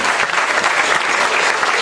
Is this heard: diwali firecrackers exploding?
no